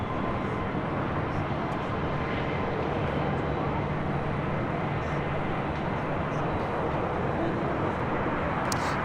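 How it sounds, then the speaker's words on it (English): An Eva Air Boeing 777 takes off from the south side at LAX, heard as a continuous, broad, loud jet engine roar that holds steady and rumbles low throughout, from a fair distance. "Eva Air 777 up next for takeoff here on the south side."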